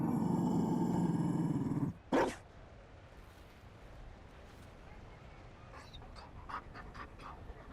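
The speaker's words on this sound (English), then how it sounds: "You found a dog?" Panting from a Mabari war dog in Dragon Age: Inquisition, a faint breathy rhythm that follows a loud tonal burst and a short thump, with a few soft scattered clicks near the end.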